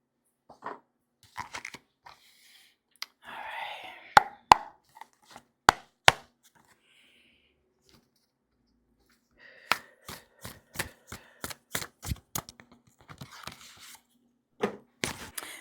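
A deck of cards is shuffled in quick riffling bursts separated by pauses, each burst ending in a sharp snapping of cards, close and isolated against a quiet background.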